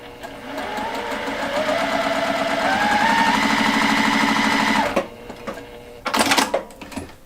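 Sewing machine stitching a scant quarter inch seam through fabric, a steady rapid mechanical whir and needle chatter running close and loud for about five seconds, then stopping, followed by a few brief clicks and handling noises.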